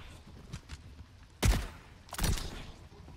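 Two sharp, loud gunshot blasts from a weapon in the video game Overwatch 2, about a second apart, each with a ringing tail, over a faint background.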